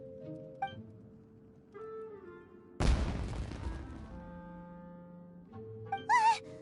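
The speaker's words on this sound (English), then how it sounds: "It sounded like fireworks." Fireworks in Genshin Impact's Inazuma region, one sudden loud burst that crackles and fades over a second or two, set against soft game music with chimes, ending with a brief rising whistle.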